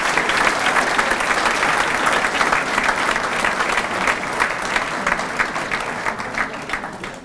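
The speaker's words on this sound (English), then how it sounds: "let's give a big round of applause for Team Maine" A large crowd gives loud, sustained applause for Team Maine 2016 at a scholar-athlete awards ceremony, a thick, continuous roar of clapping that fades slightly toward the end.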